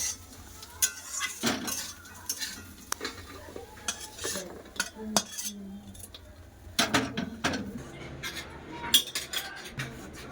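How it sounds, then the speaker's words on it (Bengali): Fried ghot kochu (taro) slices tipped out of a frying pan, with scattered metallic clinks of a spatula against the pan and faint sizzling, close and moderately quiet. "দেখুন খুব সুন্দর করে ভেজে নিয়েছি এবার ঢেলে নেবো"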